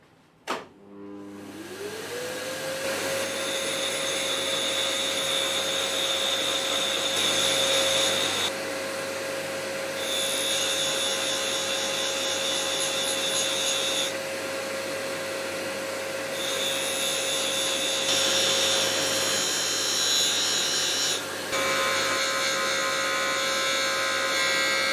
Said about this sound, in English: As with all materials that we're grinding with a diamond wheel, CBN will probably kill you, so I'm using dust extraction